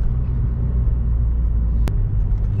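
A Ford Mondeo Mk3 2.2 TDCi diesel pulls in third gear at low revs, heard from inside as a loud, steady, deep engine and road rumble with one brief sharp tick partway through.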